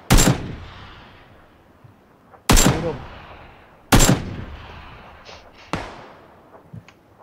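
Gunfire in the video game PUBG, aimed at a vehicle's tire: four loud, close single shots spaced a second or two apart, each with a long decaying echo, and no talk over them.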